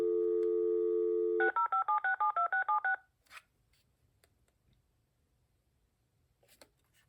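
A BellSouth VTech BS2425 2.4GHz cordless phone plays a steady dial tone, then about ten quick DTMF key tones in a brisk even rhythm, followed by faint clicks and handling noises.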